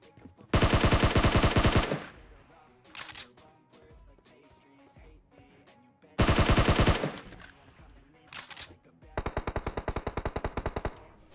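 Long bursts of rapid automatic gunfire from PUBG Mobile, three loud volleys separated by quieter stretches, with a couple of shorter bursts between.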